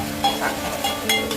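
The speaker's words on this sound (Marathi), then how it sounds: "त्याला थोडंसं तेल सुटलं की कढीपत्ता ॲड करा." Curry leaves sizzling in hot oil over a fried ginger, garlic, coriander and chili paste while cooking a bombil (Bombay duck) fish curry; a steady, close hissing fry with a few light clinks.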